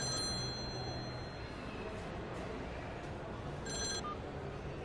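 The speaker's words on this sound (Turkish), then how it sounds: "Telefonum çalıyor." Mobile phone ringing indoors, a steady electronic ring that runs throughout at moderate level, with faint room noise beneath.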